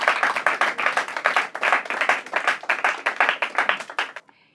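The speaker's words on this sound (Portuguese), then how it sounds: "Mas palmas para eles!" An audience claps hard and continuously at a Portuguese team quiz show, a dense burst of applause that carries on for several seconds before cutting off abruptly.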